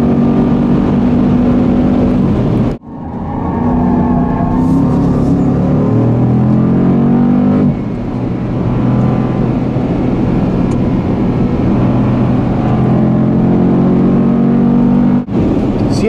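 Engine of a 2014 Jeep Grand Cherokee SRT with a new eight-speed transmission accelerating on the Circuit of the Americas, a loud close roar rising through the gears with sharp breaks at two shifts.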